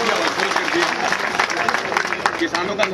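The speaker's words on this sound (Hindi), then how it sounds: "तालियां बजाइए जोरदार।" An audience at a farmers' conference claps loudly, with dense, sustained applause filling the hall evenly from start to finish, with no voices rising above it.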